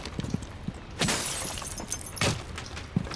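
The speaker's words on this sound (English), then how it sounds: "Breaking the glass first" Window glass shattering in the tactical shooter Rainbow Six Siege, two loud bursts of breaking glass about a second apart, with small impacts and game ambience around them, no talk.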